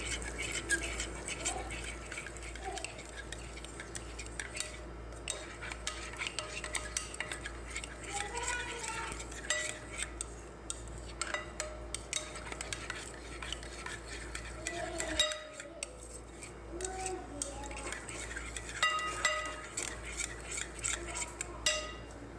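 Spices are stirred into yogurt in a bowl to make a chicken tikka marinade, with steady quiet scraping and clinking of a spoon against the bowl over a low hum, continuing without a break.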